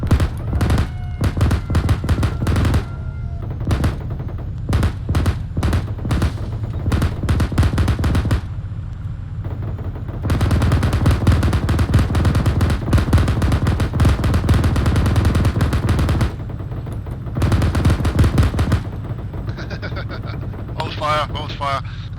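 Automatic gunfire in the military game Arma 3 during an ambush: long, loud, rapid machine-gun bursts roar almost continuously, broken by a few brief pauses.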